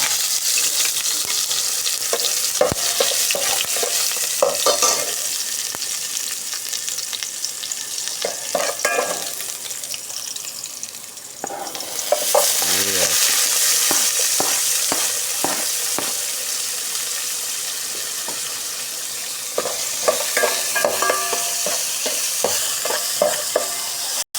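Onion frying in hot cooking oil for macaroni soup, a steady loud sizzle with repeated scraping and stirring strokes of a utensil in the pan, close and with no talking.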